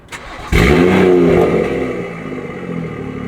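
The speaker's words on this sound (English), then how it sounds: "let me go ahead and start the car for you guys so you guys can hear it" A BMW car engine cranks and fires up with a sudden loud roar, then settles into a steady, slightly throbbing idle close by.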